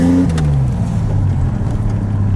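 A 1981 DeLorean DMC-12 with a stage-2 electronically fuel-injected engine accelerates loudly from inside the car, its low engine note dropping briefly as a gear changes, then droning steadily under wind and road noise.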